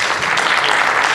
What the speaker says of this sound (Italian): quindi un grande applauso.